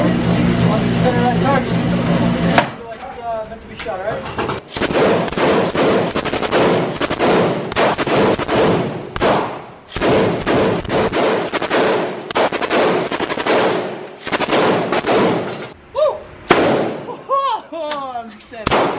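Machine guns fired at a Las Vegas shooting range, loud bursts of rapid automatic gunfire in a long stuttering run of shots, with people talking between and under the bursts.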